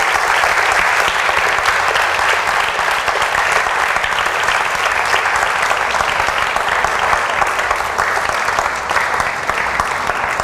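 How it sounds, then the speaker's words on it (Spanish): A church congregation applauding, dense, loud and steady clapping filling the entire stretch with no speech over it. "¿Todavía le puedes aplaudir al Rey?"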